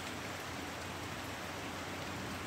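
Rain falling steadily as a dense, even hiss of drops, close and unbroken for the whole short stretch with no other sounds.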